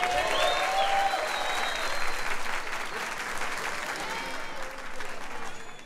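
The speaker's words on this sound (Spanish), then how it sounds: "Entonces ustedes deciden, con aplausos, ¿Iván Ulchúr merece réplica" Audience applause at a comedy roast fills the room with sustained clapping and some cheering, fairly distant and steady across the whole stretch, with a voice briefly heard over it.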